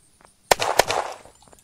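Gunfire in the Unturned video game: two sharp, close shots about a third of a second apart, followed by a short fading tail.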